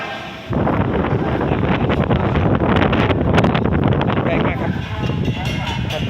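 Strong wind gusts across an outdoor temple construction site, roaring and buffeting the microphone continuously, with a voice speaking faintly under the noise.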